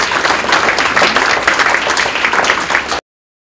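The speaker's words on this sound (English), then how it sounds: "give yourselves another round of applause" Audience applause at an Apple Distinguished School award event, a dense, steady burst of many hands clapping at once for about three seconds before cutting off abruptly.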